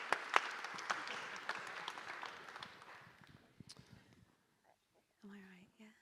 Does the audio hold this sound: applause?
yes